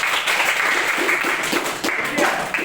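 A school class of students claps together in a classroom, a brief burst of steady, close applause with voices mixed in.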